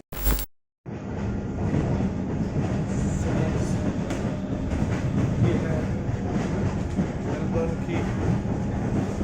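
Train pulling into a Melbourne railway station, a steady loud rumble of wheels and carriages that runs throughout after a short clunk and brief gap at the start.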